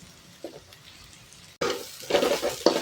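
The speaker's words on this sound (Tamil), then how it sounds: "கொஞ்சம் அப்படியே வதங்கட்டும்." Egg and vegetables sauté in a pan for wheat noodles, starting as a faint sizzle with a light scrape, then jumping to a louder, crackling fry with stirring clatter.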